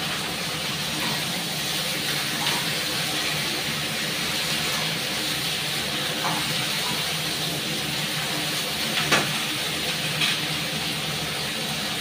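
Washed potatoes dropped into a hot pan set up a steady, loud hiss and sizzle that runs evenly throughout, with a few faint clinks along the way and no talking.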